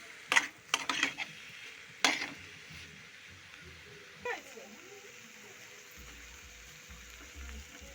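Ginger is stirred into a dish in a pan for a Bengali chal kumro chapar ghonto of ash gourd, giving a few sharp utensil scrapes and clinks near the start, then quieter, sparse stirring with low background hum.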